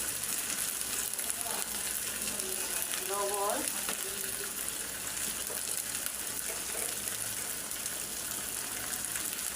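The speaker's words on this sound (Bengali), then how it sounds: "আদা রসুনটা একটু বাজা বাজা হোক" Ginger and garlic frying in a pan for a sea fish curry, a steady broadband sizzle with faint stirring and scraping, continuous and fairly close throughout.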